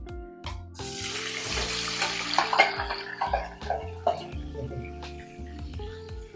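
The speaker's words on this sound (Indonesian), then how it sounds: "Tapi ini kita goreng si cekernya sebentar aja ya." Oil sizzles and crackles as boneless chicken feet fry, with stirring clatter and a voice talking over it at times.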